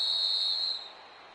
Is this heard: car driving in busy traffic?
no